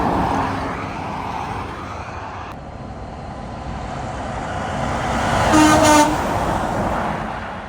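A truck on a highway gives a loud, brief horn blast near the end, heard over steady road rumble and passing traffic.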